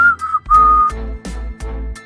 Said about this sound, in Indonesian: tiba-tiba terdengarlah siulan nyaring menusuk telinga